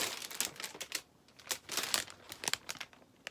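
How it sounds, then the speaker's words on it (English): A resealable plastic bag holding a boxed Game Genie is handled close by, giving quiet, irregular bursts of crinkling and rustling. "Again, it's in the creepy plastic bag."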